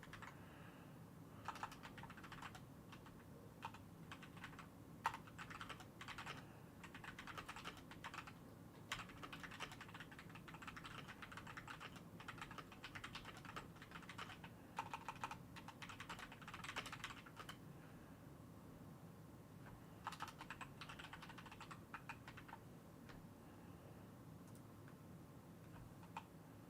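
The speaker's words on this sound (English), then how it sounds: "was typing on there at the same time" Computer keyboard typed on during a live stream, a continuous patter of light clicking keystrokes in uneven bursts with short pauses, close and with no talk over it.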